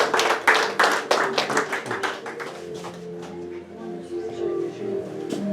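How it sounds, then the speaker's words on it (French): A church congregation claps during a worship service, first in brisk, loud, rhythmic bursts, then thinning into softer, scattered claps over a low murmur. "On applaudit Seigneur."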